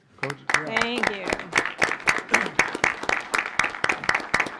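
At a school board meeting, a small group claps for team members in steady, fairly even beats, starting just after a brief voice and continuing close and moderately loud.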